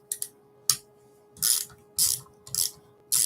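Bolts on the ABS unit of a Subaru Forester S Edition being loosened with a ratchet, giving about six sharp, close clicking bursts separated by short pauses.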